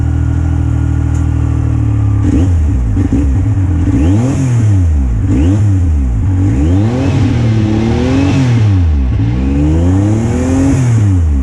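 A Yamaha YXZ1000R side-by-side with an ALBA tune and spacer revs hard in repeated rising and falling bursts, loud and close, as the driver holds it near 4,500 RPM for a launch.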